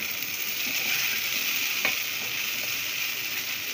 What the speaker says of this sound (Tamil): இப்ப நம்ம நல்லா கிளறி விட்டுட்டே இருக்கோம்